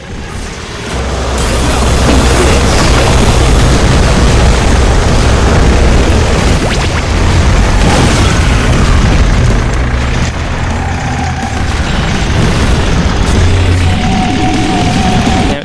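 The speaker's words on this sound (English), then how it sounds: "Wow, 3 remote bombs here." Three remote bombs detonating in a Twisted Metal 5 fan game, one continuous, loud, rumbling roar of overlapping explosions sustained for most of the stretch.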